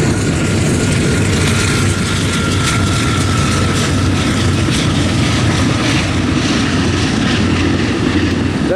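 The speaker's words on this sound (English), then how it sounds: "That's a passenger train." Passenger train rolling past near Fort Davis, Texas, a loud, steady rumble and roar that holds without a break for the whole stretch, with no talk over it.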